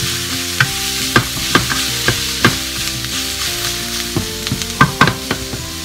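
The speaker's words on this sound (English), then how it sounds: "I'm going to let that cook down for a minute" Rajas, strips of pepper, frying in a pan over medium heat give a loud, steady sizzle, broken by repeated scraping knocks of a utensil stirring them up close.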